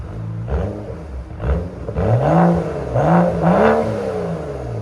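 A 2012 BMW 535i with a 3.0-litre inline-six and straight pipes is revved repeatedly up close, each loud, raspy exhaust blip climbing and falling in pitch in a series of rising pulls, with no talking.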